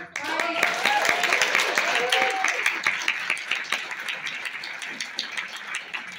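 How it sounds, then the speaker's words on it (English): An audience at a community forum in a public library applauds, a crowd's clapping that swells and then thins out, with a voice speaking over the start. "Can we give a big round of applause to Kathy for"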